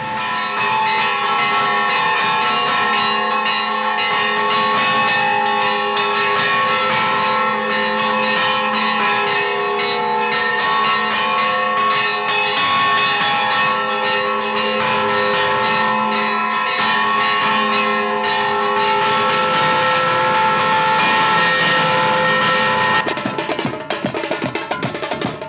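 Church bells in a Minas Gerais town ring continuously and loudly, their overlapping tones sustained for a long stretch, with the pattern shifting near the end.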